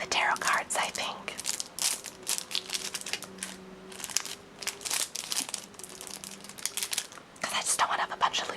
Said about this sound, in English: I'll make a few more crinkling noises, though.